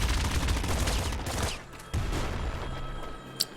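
Crossbow and shotgun fire in the game Nuclear Throne, a dense, continuous burst of rapid gunfire that drops off, then resumes briefly and ends with a small sharp pop.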